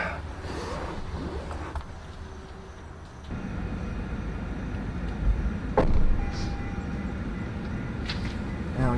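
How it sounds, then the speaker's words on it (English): Car ventilation blower motor turned up inside a car set up for camping: a steady broadband whoosh of airflow that jumps louder partway through and holds, with a few brief knocks. "So let's turn the blower motor up."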